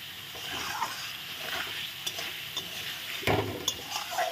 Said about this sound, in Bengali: মশলার মধ্যে আমি একবারে ভেজে রাখা আলু দিই। আলুটাও একসঙ্গে মশলার সঙ্গে কষানো হয়ে যাবে।